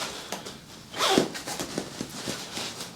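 Zip on a sleeve vent of an Andromeda Moto Stardust adventure motorcycle suit, one quick quiet zipping pull with soft rustling of fabric around it.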